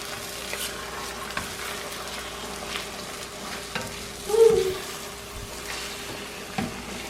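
Wild ramps fry on very low heat in a pan, a soft steady sizzle with light scraping taps as they are turned over, one louder scrape near the middle.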